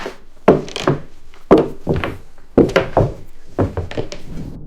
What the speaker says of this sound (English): Slow, heavy leather boots walking on old, dry, creaky wooden floorboards in an echoing room.